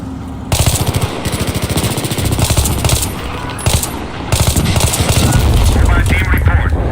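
Gunfire in a war video game: loud, rapid automatic bursts rattle almost without pause, with shouted voices mixed in over the shooting.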